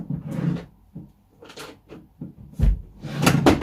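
A series of close wooden knocks and slides as a drawer is pulled out, ending in a louder clunk and rattling thumps.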